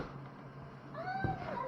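A cat gives a short meow near the end, close and moderately loud, after a quiet indoor stretch.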